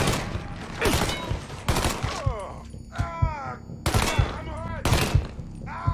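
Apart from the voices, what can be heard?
gunfire in Mafia III video game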